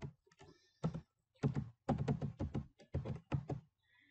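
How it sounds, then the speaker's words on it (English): Keys on a computer keyboard are typed in short, distinct bursts of clacking taps with brief pauses between, close and fairly quiet while entering a spreadsheet formula. "I'm going to go and type in a VLOOKUP"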